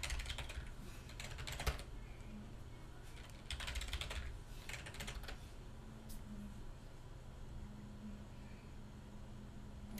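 Keystrokes on a Mac keyboard enter a system password, a quick run of clustered taps followed by a couple of shorter bursts, faint and close over a steady low background hum.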